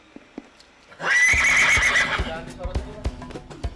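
A riding horse whinnies loudly and long, followed by hooves clopping and shuffling nearby with a few thumps.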